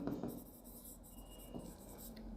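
Pen or marker scratching across paper or a board while a table heading is written out, a steady close rubbing scrawl that continues without talk.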